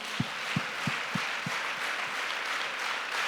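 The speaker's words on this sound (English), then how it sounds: "Then Abareni is to clap 10 times." A group of women clap in unison, about five to eight sharp, evenly spaced claps that fade toward the end over a steady background hum, with no talking.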